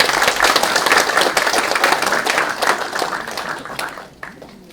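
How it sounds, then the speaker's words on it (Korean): An audience at an academic seminar on the Korean War and the Masan defense battle applauds to welcome a guest speaker; dense, steady clapping fills the room, then gradually thins and fades near the end. "많은 박수로 맞이해 주시기 부탁드리겠습니다"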